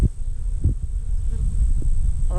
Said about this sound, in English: There's a swarm that ain't supposed to be here.